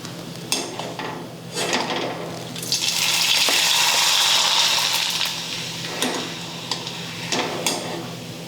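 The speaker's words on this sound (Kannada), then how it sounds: "ನೋಡಿರಿ ಇದೇ ರೀತಿ ಎಲ್ಲ ಹಪ್ಪಳನ ಫ್ರೈ ಮಾಡ್ಕೊತೀನಿ ರೀ." Rice papads fry in hot oil with a steady, loud crackling sizzle that swells in the middle, topped by occasional sharp ticks and taps, with no talking.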